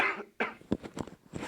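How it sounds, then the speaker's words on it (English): A few short, sharp coughs from a commentator casting an Overwatch 2 esports match, close to the microphone with brief pauses between bursts. "Cough pause."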